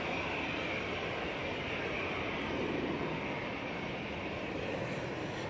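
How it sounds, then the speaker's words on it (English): An Aer Lingus Airbus A330-300 on final approach at Manchester Airport produces a broad, continuous jet roar, steady and fairly distant, with no voices over it. "On final now, we have the Aer Lingus A330-300 coming in from JFK"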